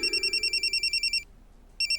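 A telephone rings with a rapid, trilling electronic pulse, stops briefly, then starts ringing again, clear and close.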